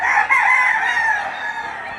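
A rooster crows once, a loud, close, drawn-out crow that fades at the end, at a livestock market in Lipa City, Batangas, on a rainy day.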